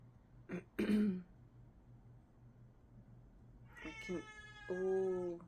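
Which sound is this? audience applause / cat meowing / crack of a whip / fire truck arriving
cat meowing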